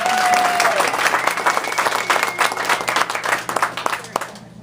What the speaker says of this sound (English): I'd like to give a round of applause to Sally,